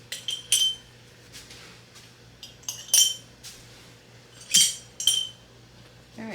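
Hot glass canning jars, readied for packing green beans, clink and knock together in several separate bright bursts with short pauses between them, close by and alone over a faint steady hum.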